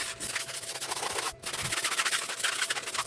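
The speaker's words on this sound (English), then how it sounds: "So go do that, all the tires, with the stiff bristle brush." A stiff-bristle brush scrubs a car tire with steady, rough back-and-forth rubbing strokes in quick rhythm, close and fairly loud, with one brief pause partway through.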